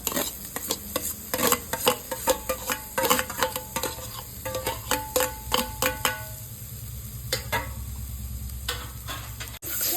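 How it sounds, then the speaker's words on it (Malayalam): Spoon stirring carrot, onion, tomato and chicken masala sandwich filling in a pan, a rapid series of sharp scraping clicks and taps over a faint sizzle, near and loud, with a brief quieter pause midway. "എല്ലാം കൂടി ഇളക്കി യോജിപ്പിക്കാം"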